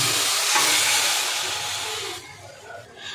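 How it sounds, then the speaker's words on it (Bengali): Tamarind chutney bubbles in hot oil, giving a loud, dense hiss and sizzle that holds steady, then drops and softens toward the end with faint crackles. "দেখুন বন্ধুরা চাটনিটা ফুটে উঠেছে"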